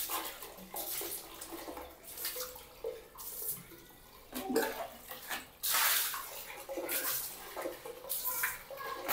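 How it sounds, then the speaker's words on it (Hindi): Water is poured into a toilet bowl during cleaning, making splashing and gurgling in uneven bursts with louder gushes near the end, fairly close and alone without talk. "अभी तो हमने पानी डाला है, पानी डाल दिया"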